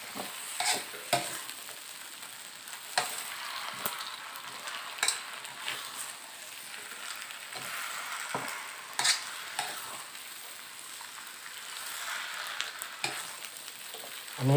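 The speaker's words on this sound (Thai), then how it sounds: "ก็ผัดเลยครับ ผัดให้ผักมันสุกนะครับ" Marinated pork and vegetables stir-frying in a home pan for soy-sauce fried noodles: a steady close sizzle with repeated scraping and tossing strokes of a spatula at an irregular rhythm, no voices.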